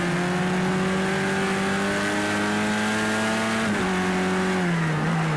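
A race car engine holds a steady high drone at night at Brands Hatch in Project Cars 2, its pitch dipping briefly as the driver lifts, then climbing again, loud and close throughout.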